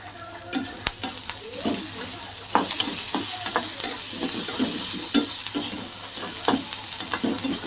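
Masala stir-fried in a pan for potato puri until it turns red, with a steady sizzle under repeated scraping and stirring strokes, close and moderately loud throughout.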